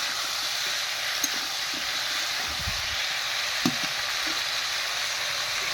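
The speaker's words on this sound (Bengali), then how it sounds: "আলু বেগুনটা ভালো করে কষে নিই।" Potato and eggplant frying with spices in a pan, a steady broadband sizzle throughout with occasional soft stirring scrapes and small pops.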